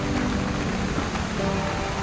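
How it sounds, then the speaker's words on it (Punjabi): Steady rain falls around an auto-rickshaw, a continuous close patter with faint tonal hum underneath and no one speaking. "ਬਾਰਿਸ਼ ਪੈ ਰਹੀ ਹੈ"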